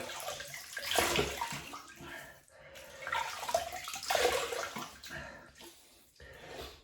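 Water runs from a tap into a polished bathroom sink, a steady splashing rush with two swells and brief dips as hands scoop it to wet the face before a shave, with no talking.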